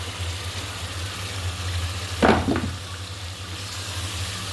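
Hilsa fish pieces hit a pan of cooked-down spices and chopped green chillies, giving one brief, sharp sizzling burst over a steady low kitchen hum.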